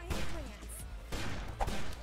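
Rapid gunfire from the video game Postal 3 crackles in quick bursts close up, with sharp repeated reports over a constant low background rumble.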